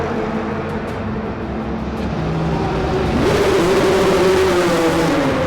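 A race car engine from the APR team's endurance race in Dubai drones loudly and steadily throughout, rising in pitch as it accelerates near the end with no talk.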